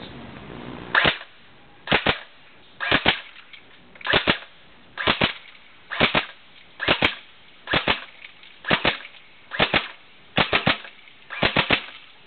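A gun fires about eleven sharp, loud shots at a steady pace of roughly one per second from around five metres, each crack standing alone against a quiet background.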